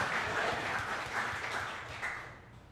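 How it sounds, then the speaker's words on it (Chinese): Church congregation applauding during a sacred music Sunday service, a steady wash of many hands clapping at moderate level that tapers off toward the end. "我们用掌声感谢我们的主耶稣"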